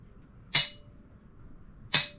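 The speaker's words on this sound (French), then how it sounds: "Une soudure comme ça, si ça fait ça... comme un bruit de cloche qui résonne." A struck aluminium weld on a boat deck hatch, two sharp metallic strikes about a second and a half apart, each ringing clearly like a small bell and decaying quickly in a quiet space.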